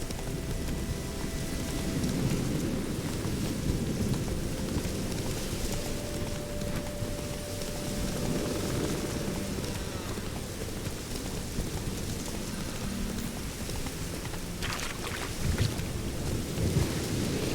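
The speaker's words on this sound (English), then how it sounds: "The storm, damn it." A thunderstorm in The Witcher 3, with steady heavy rain pattering and low rolling thunder rumbling continuously throughout, loud and enveloping, with no one speaking.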